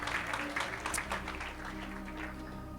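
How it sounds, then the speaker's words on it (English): A church congregation claps hands together, a dense, steady patter of many hands that continues throughout over a low background hum. "Can we clap hands for the Lord?"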